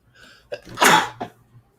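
A single sneeze, a quick intake of breath followed by a sharp, loud burst at close range, in a quiet room with no talk over it.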